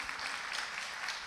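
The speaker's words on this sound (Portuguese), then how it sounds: "Vamos aplaudir Jesus por essas vidas." A church congregation applauds during a Sunday service after baptisms, a steady patter of clapping from many hands, faint and lasting only about a second.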